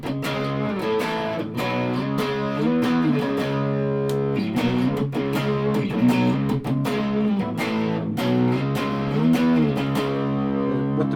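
Distorted electric guitar from a modified SX Vintage Series Strat on a single-coil pickup chugs through a driving riff of choppy, palm-muted chords and ringing notes, loud and close throughout.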